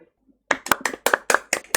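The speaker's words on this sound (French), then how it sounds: "je m'applaudis moi-même parce que les autres m'aiment pas" A live streamer claps their own hands alone, about nine sharp, close claps in a quick, slightly uneven rhythm after a brief quiet start.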